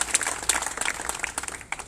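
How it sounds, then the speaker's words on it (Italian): A short burst of dense clapping from the audience at an election campaign event in Rosolina with Luca Zaia, steady and close for under two seconds. "facciamo un grande applauso"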